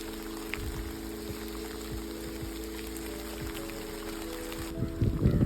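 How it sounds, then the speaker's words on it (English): Steady rain patters across a surface in a continuous wash, with a low engine hum underneath and a brief louder rustle near the end. "Raining a little heavier now."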